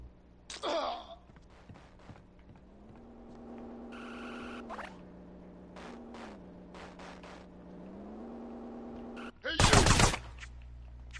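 Gunfire bursts in the GTA video game: a sharp rattle near the start and a louder, dense burst near the end, with people talking over the game sounds in between.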